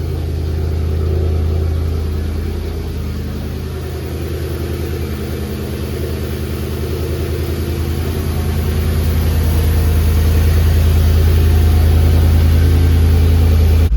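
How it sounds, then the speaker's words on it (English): A Mercedes E55 AMG engine idles after a restart, its trim tables recently cleared; a loud, steady low rumble close by, settling slightly then swelling again toward the end. "after a second start, seems to be back to normal now with the idle"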